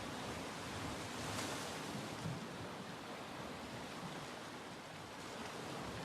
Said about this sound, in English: You've got the noise of the sea.